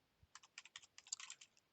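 Quick bursts of keystrokes on a computer keyboard, a short run of light, close, quiet clicks with brief pauses and no talking.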